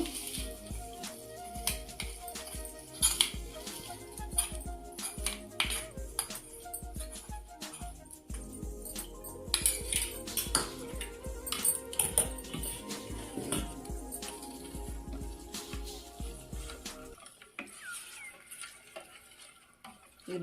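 A spoon scrapes and clinks around a bowl of curd in irregular strokes as tempering is stirred in, with faint background sizzle, then stops near the end; no voices.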